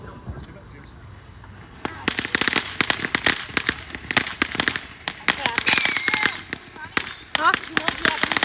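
Neighborhood firecrackers and fireworks pop off in quick, sharp bursts of crackling bangs, some close and loud, after a quieter start, with people talking and a whistling rocket partway through.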